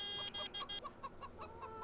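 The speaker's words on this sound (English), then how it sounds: "So what is this in the middle of the road? That is a chicken." Chicken clucking in the Farming Simulator 17 video game, a quick run of about a dozen short clucks and squawks, close and fairly loud with no talk over it.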